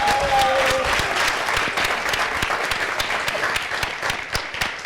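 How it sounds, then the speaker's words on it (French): A studio audience breaks into dense, sustained applause with a few cheers, loud and close throughout, greeting a guest at the start of a French talk show segment. "Acclamation pour Aristide Bansé."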